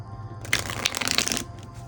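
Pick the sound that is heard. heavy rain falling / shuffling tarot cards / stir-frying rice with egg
shuffling tarot cards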